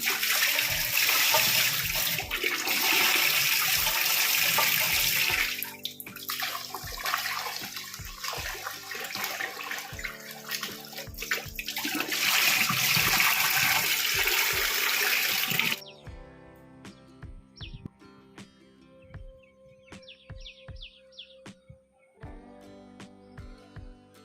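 Rice is washed in water for murukku: a near, loud run of sloshing, swirling and pouring water with clinks in between, then a quieter stretch of drips and light splashes with pauses.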